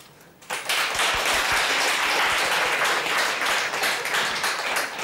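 Studio audience applause on a cooking show while hosts taste freshly made beshbarmak, a dense steady wash of clapping starting after a brief quiet moment and holding evenly throughout, no talk over it.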